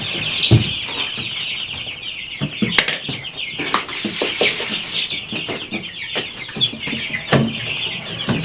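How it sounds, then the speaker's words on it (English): Three-week-old Cornish cross chicks in a brooder cheep and cluck continuously nearby, with scattered scuffles and wing flaps among the peeping chorus. "in this brooder, we have slightly more skittish Cornish cross chicks that are 3 weeks old"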